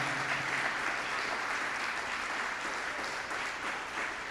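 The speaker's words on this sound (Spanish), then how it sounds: "Denle un aplauso al Señor esta mañana." A church congregation applauds during a Spanish-language service, a thick, continuous roar of clapping filling the room at an even level without pause.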